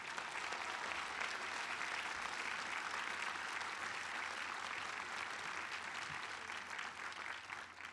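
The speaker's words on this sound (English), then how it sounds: "Give yourselves a round of applause." Graduates at the UMass Boston 2014 commencement ceremony applaud in a large, sustained, even roar of clapping that stays steady throughout and tapers slightly at the close, heard from some distance.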